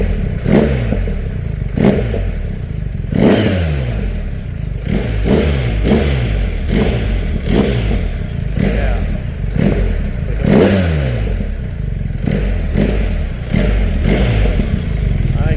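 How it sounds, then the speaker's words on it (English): A BMW R1300 GS boxer engine with the exhaust servo deleted, revved repeatedly in sharp blips that rise and fall every second or so, loud and close, with a throaty muffler note and mechanical clatter between revs. "Got more of a mix of the engine, the boxers going back and forth, and the muffler sound."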